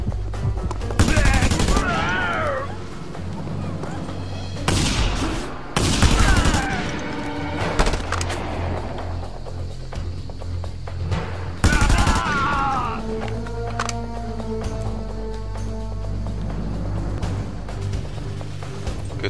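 Gunfire in the video game Just Cause 2, with loud bursts of rapid shots and blasts at intervals over a busy backdrop of game sound.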